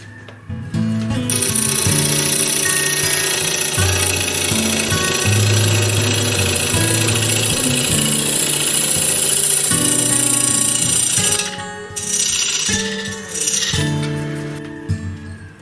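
A wood lathe spins a blackwood bowl while a gouge cuts it, giving a loud, steady whirring drone with a rattling chatter that holds for about eleven seconds, breaks off briefly, then resumes.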